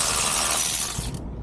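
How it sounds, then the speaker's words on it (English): An electric angle ratchet turns a bolt during brake pad replacement on a 2024 Can-Am Spyder, a loud close continuous whirring buzz that cuts off abruptly near the end. "Our angle ratchet, the electric angle ratchet, I recommend to anybody."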